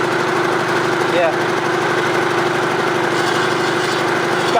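The engine of a Cub Cadet 1650 garden tractor, being rebuilt as a four-wheel drive with a hydrostatic transmission, runs at a steady, loud drone with a fast, even chugging pulse close by.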